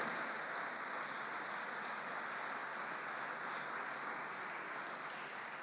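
A church congregation claps together in sustained, steady applause, loud and continuous throughout with no talk over it.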